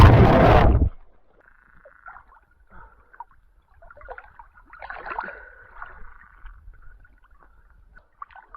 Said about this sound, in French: C'est quoi ce bruit? C'est les grenouilles.